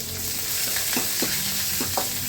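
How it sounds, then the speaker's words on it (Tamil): Sliced onions and green chillies frying in oil after cumin for chicken gravy, a dense continuous sizzle up close with several distinct scraping strokes of a spoon stirring through the pan. "நல்லா வெங்காயம் வதங்குற அளவுக்கு பண்ணிவிட்டு இஞ்சி பூண்டு பேஸ்ட், அதுக்கப்புறம் அதோட வாசம் போகிற அளவுக்கு கொஞ்சம் கிண்டுங்க"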